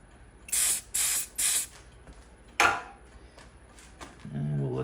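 Three short hissing bursts of accelerator spray onto a wood and bone pen, close and loud, followed by a sharper hiss and a few faint clicks, ending in a low background hum.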